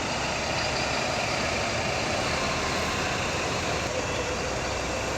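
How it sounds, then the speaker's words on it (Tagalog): A double-decker sleeper bus engine idles steadily at a bus bay near an arrivals area, giving a loud, constant, broadband rumble that continues unbroken and alone from start to finish. "Ganyan yung sasakyan nating bus."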